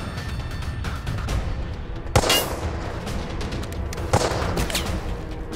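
Rifle gunfire in a thriller film, two sharp shots a couple of seconds apart over a steady background of distant crackling shots, fairly close and loud, no voices.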